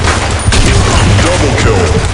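Dense, loud burst of gunfire and explosive booms in the Blackshot first-person shooter on the Sand Storm map, a continuous crackling barrage with no breaks.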